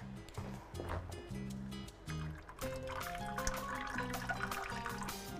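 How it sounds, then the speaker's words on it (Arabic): Water is poured into a thick starch and peanut mixture in a kitchen, a steady trickle and pour with some drips, heard alone and up close. "ازود بس شويه ميه كمان"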